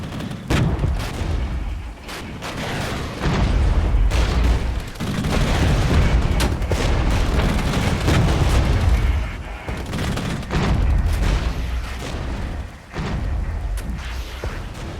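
Long-range gunfire and artillery from the Regiments wargame, a steady stream of distant booms and crackling shots rolling on continuously, with heavier thumps rising and falling in dense bursts.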